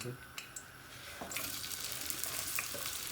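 Four small garlic cloves dropped into heating vegetable oil in a pan, a faint start with a few light ticks, then a rising continuous bright crackling sizzle with no speech.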